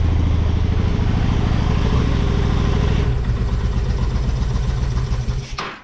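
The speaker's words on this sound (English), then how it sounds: "she's idling under her own power" An old engine that sat for almost a decade idles on choke, loud and close with a fast, slightly uneven chugging pulse that shifts to a lower, rougher beat midway before cutting off abruptly.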